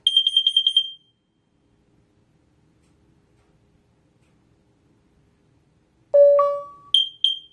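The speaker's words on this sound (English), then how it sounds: "This is only a test. Testing smoke. Testing carbon monoxide." Loud, piercing high-pitched beeps from a Nest Protect 2nd Gen smoke and carbon monoxide alarm during a test: a quick burst of rapid pulses, a long near-silent pause, then more shrill tones.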